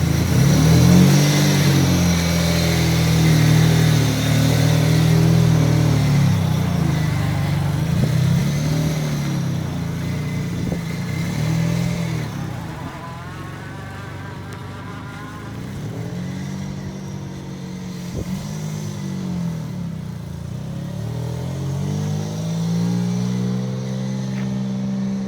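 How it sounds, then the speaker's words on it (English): Turbocharged Mazda MX3 on a road test drive, engine revving and accelerating repeatedly through gears with rising and falling harmonic sweeps, steady loud interior drone throughout, no talking. "So let's go for a quick test drive"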